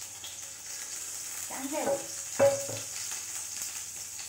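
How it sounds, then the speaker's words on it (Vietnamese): Cooking oil and lard heat in a pan, giving a quiet, steady sizzle with a faint background hiss, while a person speaks briefly in Vietnamese over it. "Để cho mỡ sôi đúng không"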